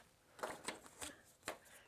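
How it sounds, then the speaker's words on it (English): Quiet snips and rustles come as scissors cut paper treat boxes along their score lines. Four or five short, crisp cuts fall at irregular intervals, close by, over near silence. "I'm going to cut it up to the very first score line and then cut those 4 boxes out"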